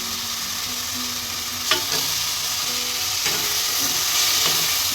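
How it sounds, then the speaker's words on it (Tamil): Mutton bones drop into sizzling sautéed tomatoes in a pan, giving a loud, dense frying hiss broken by a few brief thuds and stirring scrapes. "மட்டன் எலும்பை ஆட் பண்ணிக்கலாம்"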